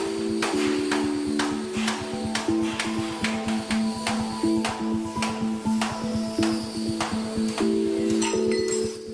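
A hammer repeatedly strikes sheet metal for a Willys jeep part held on a jig in a Philippine workshop, giving loud, rapid, ringing metallic blows with a steady clanging rhythm throughout.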